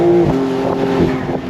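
Exhaust of a 992.1 Porsche 911 Carrera S on throttle, a smooth droning engine note with a few slight swells in pitch, close and fairly loud with no talking.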